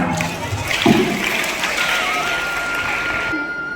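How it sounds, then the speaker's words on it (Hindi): An audience at a school Janmashtami celebration gives loud applause for a performer, steady clapping throughout with a brief voice rising over it near the start. "एक बार जोरदार तालियां"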